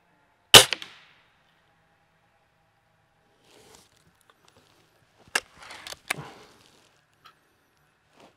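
A Cometa Fenix 400 crossbow releases with one sharp snapping crack, followed seconds later by a few softer thuds and clatters, fairly quiet overall with silence between sounds.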